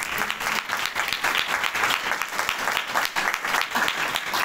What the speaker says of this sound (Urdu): آئیے یسوع مسیح کے لیے زوردار تالیاں بجائیں